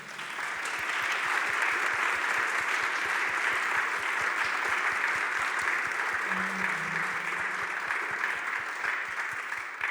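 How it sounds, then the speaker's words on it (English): Sustained, dense applause from a conference audience for a panel of speakers on international cooperation for a circular economy. Many hands clap at a steady loud level throughout, with a faint voice briefly underneath. "all the four have deserved a big applause given the hand"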